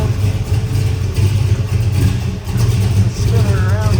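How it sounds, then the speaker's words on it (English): A 1972 Chevrolet Nova with a 454 big block V8 and TH350 automatic idles with a deep, steady exhaust rumble that pulses gently throughout, loud and close, while a person talks over it. "look at the exhaust just rumbling back and forth"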